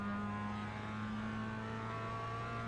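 Mazda MX-5 racing car in the iRacing video game accelerating at Okayama circuit, a loud steady engine drone with a sustained tonal hum and no talking.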